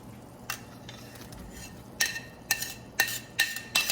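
Swedish meatballs are dropped back into a pan of sauce in several soft, wet clinks and plops spaced through a few seconds. Utensils clink faintly in a quiet kitchen.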